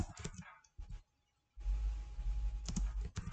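Computer keyboard typing in short bursts of quick key clicks with a gap of silence, then continued tapping over low background rumble.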